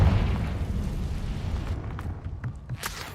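Confringo fire spell exploding in Hogwarts Legacy: a loud, broad burst at the start trailing into a rumbling, crackling decay, with a few smaller pops near the end.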